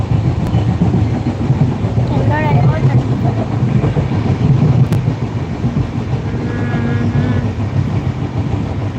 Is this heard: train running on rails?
yes